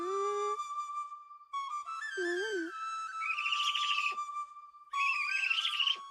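A person whistles a bird-like call, a sustained shrill tone with warbling trills and rising chirps, the voice imitating a bird's cry in an animated scene.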